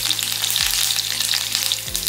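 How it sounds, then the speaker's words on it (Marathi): Whole cumin and curry leaves crackle and sizzle loudly in hot oil for a tempering, a dense close spitting hiss over faint low background music. "साधारण 8 ते 9 कढीपत्त्याची पानं घालायची आणि खमंग फोडणी होऊन द्यायची।"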